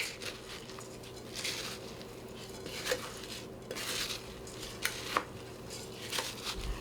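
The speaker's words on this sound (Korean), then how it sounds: "이렇게 골고루 섞어주세요" Yakbap (sweet rice) ingredients seasoned with soy sauce are mixed evenly in a bowl, with soft scraping, patting clatter and a few light clinks of a utensil against the bowl, low and close throughout.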